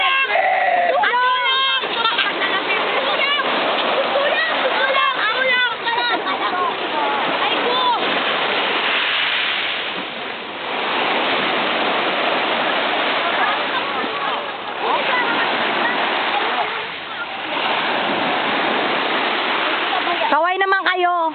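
People swimming and splashing in water at a pool, with continuous broadband water noise, shouting voices and laughter over it throughout, and brief lulls in between.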